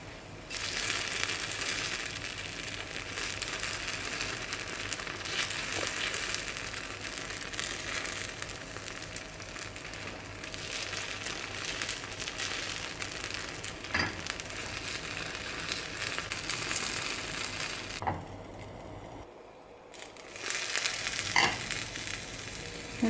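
Chettinad kuzhi paniyaram sizzles steadily in a pan while the pieces are flipped. A dense, constant frying hiss runs throughout, with occasional scraping clicks, a brief dip near the end, and then the sizzle comes back.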